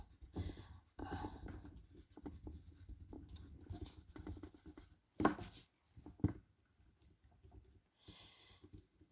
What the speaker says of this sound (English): I'm going to erase it first.